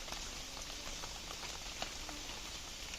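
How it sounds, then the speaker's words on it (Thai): Soft, steady rain patters faintly with a continuous wash of a flowing stream beneath it, quiet and even throughout, at a campsite beside the stream. "เสียงฝนแล้วก็เสียงน้ำไหลด้วย"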